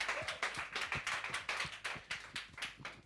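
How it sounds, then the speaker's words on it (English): A small round of clapping for a game night contestant, sparse and fairly faint, with individual claps audible in an uneven rhythm. "Let's give him another final round of applause"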